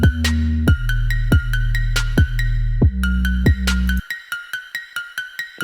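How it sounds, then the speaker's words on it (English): Trap beat built in Ableton Live, heavy with reverb: a deep bass-and-kick pattern with bright repeating bell-like hits drives the first four seconds, then the low end is filtered away, leaving only thin, reverberant high clicks and hats. "you can cut some of the low end of the sound and just leave the high end of the sound"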